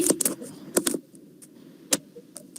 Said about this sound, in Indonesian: Sedang mengetik.